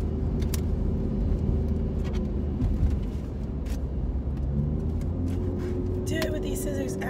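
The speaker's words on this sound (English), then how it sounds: "As I'm in a moving car." A moving car's interior drones with a constant low road rumble and engine hum throughout, with scattered small rustles and clicks of packaging being handled close by.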